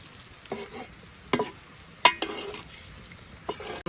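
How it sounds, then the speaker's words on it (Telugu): A spoon stirs fish curry in tamarind broth, giving a few scattered scraping clinks against the pan over a faint sizzle, quiet and close, with no one talking. "దీన్ని అయితే బాగా కలుపుకోవాలి మొత్తానికి."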